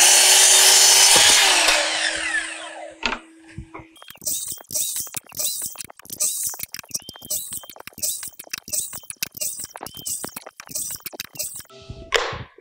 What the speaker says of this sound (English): So right now I'm just gonna be cutting about 20 stretchers for our jigs.